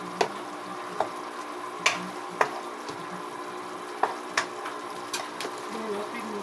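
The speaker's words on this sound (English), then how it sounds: "I am going to mix." Food being stirred in a frying pan with pasta nearby, heard as a low background sizzle broken by sharp irregular clinks and scrapes of a utensil against the pan, with talk in between.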